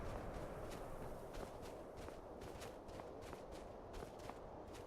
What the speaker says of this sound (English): I'm not sure if I can hear their footsteps behind me, or if those are just mine.